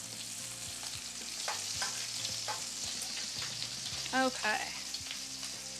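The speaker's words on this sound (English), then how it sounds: "let's just flip the bacon" Bacon sizzles in a pan as it is flipped, a soft continuous frying hiss broken by a few light scraping clicks near the end, with a single brief spoken word.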